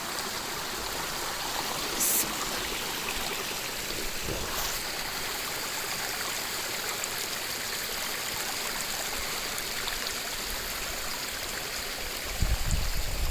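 Cold mountain spring water rushes steadily downhill in a continuous, full stream, a dense unbroken wash of flowing water close by with no voices.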